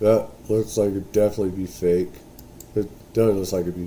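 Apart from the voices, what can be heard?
No everyday noises stand out.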